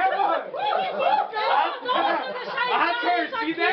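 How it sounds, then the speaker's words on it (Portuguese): A group of birthday-party guests cheering and chanting together, several voices shouting loudly in rising and falling waves, close and continuous. "A torcida é grande"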